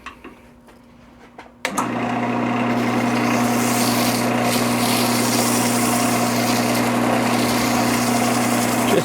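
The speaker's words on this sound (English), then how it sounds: "So right now I'm just going to lightly cut it back with a piece of 320" A cedar bowl turning on a wood lathe, worked with 320 grit sandpaper: a steady mechanical hum with a strong constant tone starts abruptly and runs on evenly and fairly loud, with a faint hiss of abrasive over it.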